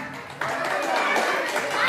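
Audience applause at a school alumni reunion rises abruptly after a brief lull into a dense, steady patter of many hands that carries on unbroken, fairly loud and close.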